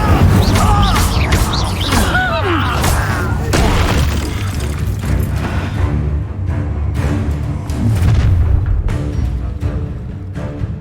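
Incendio fire spell cast during combat in Hogwarts Legacy: loud, dense bursts of whooshing, crackling blasts and crashing impacts, sustained across the whole stretch amid other game effects.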